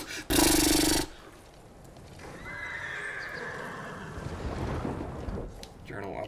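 A horse whinnies in Ghost of Tsushima, one loud, sharp neigh at the start followed by a softer stretch of movement and rustling.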